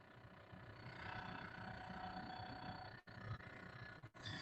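Failing blower motor giving a steady, faint roar that holds for several seconds, broken by two brief dips near the end, with no voices over it.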